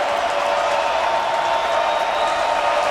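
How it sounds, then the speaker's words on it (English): Stadium crowd at an LSU football game roaring and clapping in a steady, dense wash of noise, loud and continuous throughout. "LSU crowd trying to support this defense on 3rd and 10"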